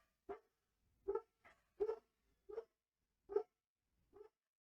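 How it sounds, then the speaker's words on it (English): Indoor dogs bark in short, separate bursts, about seven barks spaced roughly half a second apart, heard at a moderate distance and fairly quiet, with silence between them. "Oh, they're still barking."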